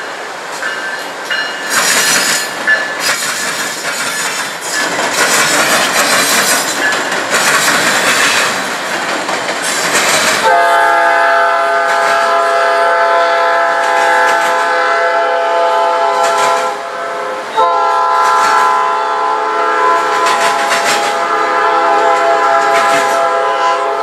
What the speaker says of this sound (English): It's 45 minutes of trains, all sorts of trains